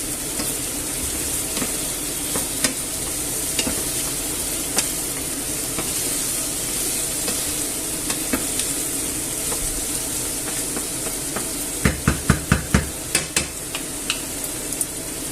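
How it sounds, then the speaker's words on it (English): Rice with chicken and chorizo sizzles steadily in a pan, with occasional scrapes and a quick run of clacking stirs toward the end, close and continuous. "And we'll be stirring it every now and then. So let's give this a move about."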